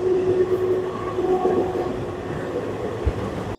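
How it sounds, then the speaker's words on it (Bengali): A Black Diamond Express train pulling into Raniganj station, a steady loud rumble of rolling carriages with a droning hum throughout and a brief low thump near the end. "ট্রেন এখন চলে এলো রানীগঞ্জ।"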